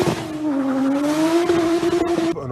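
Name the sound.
tuned BMW E90 330d diesel engine exhaust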